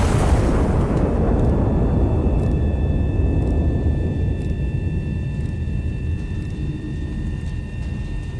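A high-explosive artillery shell fires and detonates in a video game: one deep, heavy boom at the start that decays slowly into a long, low rumble, with a faint steady tonal hum above it and no talking.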